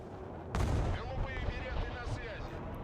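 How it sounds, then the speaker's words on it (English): Patriot missiles launching in the video game Warno: a sudden loud blast followed by a sustained roaring rush, with continuous booming battle noise underneath. "Those are some interesting missiles. But yeah, that is a Patriot."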